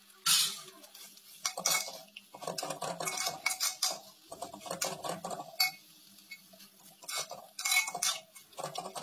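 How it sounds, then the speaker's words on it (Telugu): Mint leaves being fried and stirred in a pan with fresh coconut and tamarind, giving repeated scraping clinks of a metal spatula against the pan in irregular bursts, close and fairly quiet with no talking. "ఇప్పుడు పుదీనా కూడా వేసి బాగా ఫ్రై చేసుకోవాలి"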